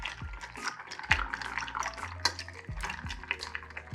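A Scotch cocktail with ice is stirred in a mixing glass, giving close, repeated clinks and rattles of ice against glass and spoon, with a soft liquid swirl underneath.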